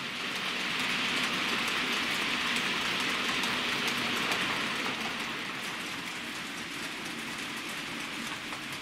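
A weathered model Class 33 diesel locomotive, 33029, hauls Bachmann benzene tank wagons along a model layout, producing a continuous soft rushing rumble with faint rhythmic clicks and no talking.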